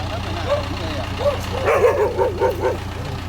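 Several dogs bark in a yard with clay soil, sending out a run of repeated, fairly close barks and yips that grow busier toward the end over a steady low background hum.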